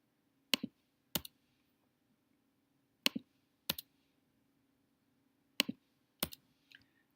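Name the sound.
computer mouse clicking and keys pressed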